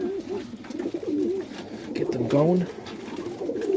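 Young highflyer pigeons coo softly in a loft, several low burbling calls overlapping close by under a brief spoken word.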